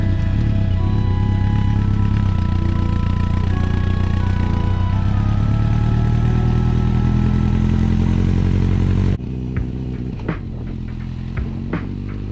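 A Honda CB1100 motorcycle rides up a windy hilltop road, its engine droning steady and close with a low throb, then suddenly drops to a quieter idle-like rumble with faint clatters near the end.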